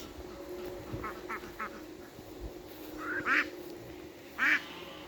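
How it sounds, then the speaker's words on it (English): Ducks quack a few times outdoors, short nasal calls in two small bursts over a quiet background murmur. "Ducks, you can tell by their voices"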